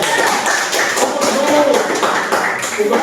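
Students in an Arabic language class clap their hands together in a quick, patterned rhythm, close and lively, with voices mixed in.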